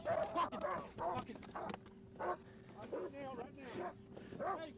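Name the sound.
police dog barking during an arrest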